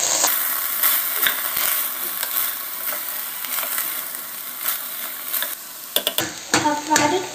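Masala paste for peas usli being stirred in a frying pan, a steady scraping and stirring with soft sizzling throughout, ending in a few sharper clanks of the spoon against the pan.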